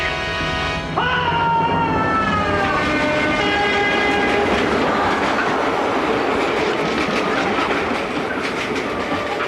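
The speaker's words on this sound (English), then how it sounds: "This intercity train does not stop at this station." A train horn blares, then a fast intercity train rushes through a station without stopping, with rising clatter of wheels on rails, loud and close, roaring steadily to the end.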